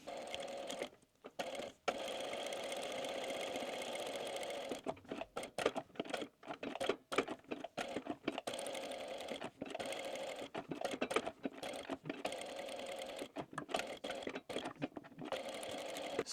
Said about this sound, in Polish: Jeśli jest ok, to zabieramy się za szycie.